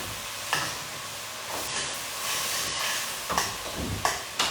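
Italian sausage sizzling in a pan for sausage zucchini soup while being broken up, a steady close frying hiss broken by several sharp scraping and clacking stirs, with no voices.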